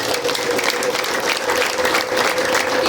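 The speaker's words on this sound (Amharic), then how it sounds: "ለልታና ጭብጨባ" A church audience claps in dense, sustained applause, loud and close, with a faint high ululation woven into the clapping for the full few seconds.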